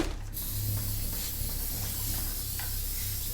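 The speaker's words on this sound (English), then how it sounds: "I like to spray this baby out and to make sure it's clean" Brake cleaner is sprayed onto a new OEM front brake rotor for a 2018 Acura MDX, a steady close aerosol hiss running almost continuously with slight bursts and no talking.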